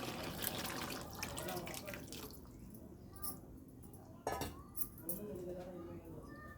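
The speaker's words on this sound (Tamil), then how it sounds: "நல்லா கறி வேகிறதுக்கு தண்ணி விட்டுக்கலாம்" Water is poured into a pot of mutton curry simmering with a ground onion, tomato, mint and coriander paste. The splashing is fairly soft, with faint clinks of a utensil and low background voices.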